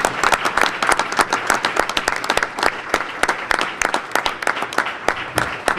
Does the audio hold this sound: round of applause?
yes